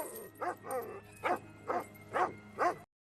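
A guard dog in a movie barks six times in a roughly regular rhythm, moderately near but not loud, with no talking.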